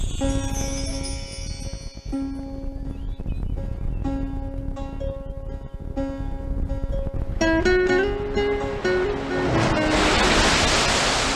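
Ocean waves breaking on a shore sit beneath steady sustained musical tones, with the surf swelling into a louder rushing wash toward the end.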